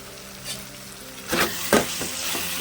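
Chopped tomatoes sizzle in hot oil in a pan for mushroom curry, a close, steady frying hiss with a couple of louder bursts as they hit the pan.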